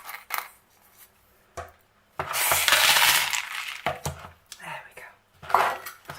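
Small hard decorative grow stones clatter and rattle as they are poured into an orchid pot, a dense gritty cascade with scattered clinks before and after.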